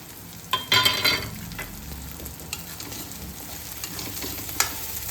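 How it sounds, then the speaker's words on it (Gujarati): Carrots dropped into vegetables frying in a pan for masala Maggi noodles, a close clattering stir and sizzle burst followed by a steady frying hiss with occasional utensil scrapes. "હવે એમાં આપણે ગાજર ઉમેરશું."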